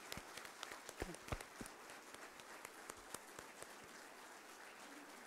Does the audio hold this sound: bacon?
no